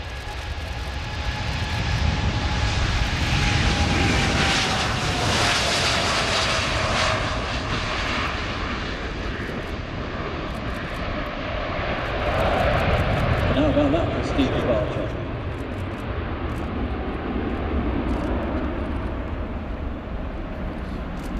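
A Boeing 787-8 Dreamliner of Biman Bangladesh begins its takeoff run at the Farnborough air show, jet engines roaring loud and steady with a rising whine, while a commentator talks over the noise.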